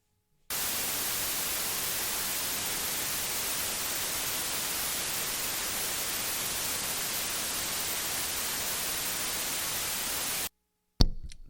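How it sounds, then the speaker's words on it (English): Steady white noise test signal, a broad even hiss held at constant loudness for about ten seconds, followed by a short gap and a brief click-like burst at the end. "The first one is white noise."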